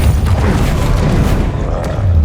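Fiery Confringo and Incendio spell blasts in the game Hogwarts Legacy, heavy low booming rumbles and crackling bursts running continuously and loud throughout.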